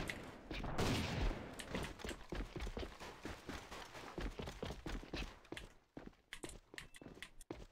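Rapid automatic fire from an R4 Lizard rifle in the online shooter AVA, with dense, continuous bursts of loud shots running almost the whole way through before a brief lull and a few more scattered shots.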